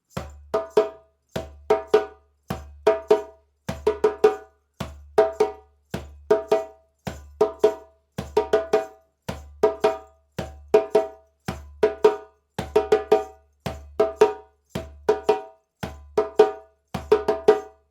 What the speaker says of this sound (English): The first djembe part sounds like this.